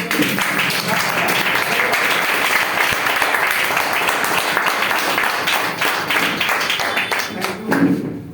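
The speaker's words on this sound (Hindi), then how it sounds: "एक बार जबरदस्त तालियां हो जाए" Audience applause at a health and education plan presentation, loud sustained clapping from a seated crowd with scattered sharper claps and thumps, continuing steadily before tapering slightly at the end.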